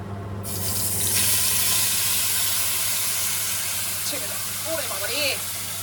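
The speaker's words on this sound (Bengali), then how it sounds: "এখানে পটলের খোসা বাটাটা এবার একটু ভাজা ভাজা হবে" Fish and pointed gourd peel paste sizzle and hiss steadily in a hot pan, a constant frying noise, with a brief voice toward the end.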